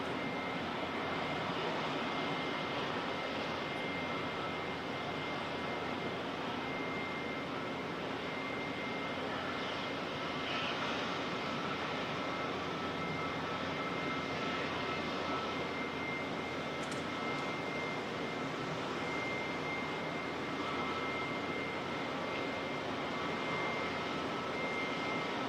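Far off at Auckland Airport, a Barrier Air Cessna Caravan turboprop comes in to land, heard as a faint, steady engine drone that barely changes across the whole stretch.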